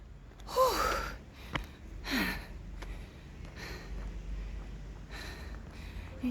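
A runner just past a 4.5 km birthday run at Camp John Hay, Baguio City, lets out heavy breathy gasps and sighs, loud and close, separated by quieter panting over light outdoor wind.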